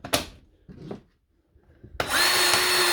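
Milwaukee cordless grease gun powered by a DeWalt battery through an adapter, a few clicks and handling knocks, then the motor starts abruptly and runs with a steady whirring hum.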